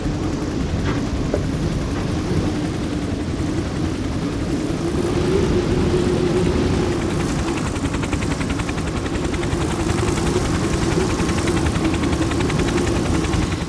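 Helicopters ferry food supplies from Stralsund to snowbound Rügen island in the winter of 1978–79, their engines and rotors a loud, constant drone with a rapid chopping throb running throughout.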